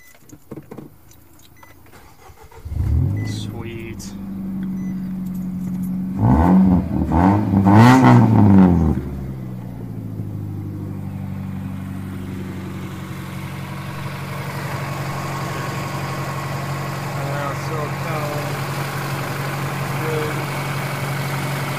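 A Nissan Versa fitted with a new cold air intake cranks and fires up, then settles into a steady, close idle that runs on alone for the rest of the clip.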